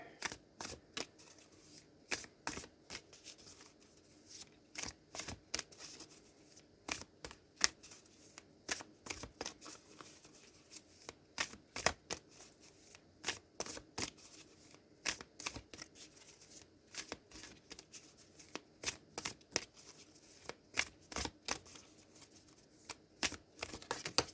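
Oracle cards from a Sacred Forest deck are shuffled by hand, giving a long run of quick, crisp riffling flicks and snaps in irregular bursts, soft and close with no talk.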